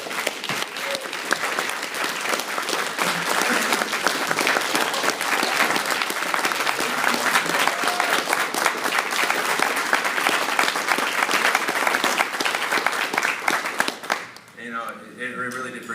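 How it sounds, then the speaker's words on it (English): An audience at a fundraiser applauds the speaker's wife with long, sustained clapping, dense and lively for about fourteen seconds before it fades and a voice begins to speak. "So everybody give her a round of applause."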